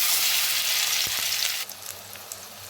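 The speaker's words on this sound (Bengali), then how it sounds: "তেল গরম হয়ে গেলে আমি এর মধ্যে আদা পেঁয়াজ রসুন লঙ্কা আর চিংড়ি মাছ" A paste of ground prawns with ginger, onion, garlic and chilli hits hot mustard oil in a pan, giving a loud, steady hiss and sizzle that eases off a little partway through, with a few soft knocks from stirring.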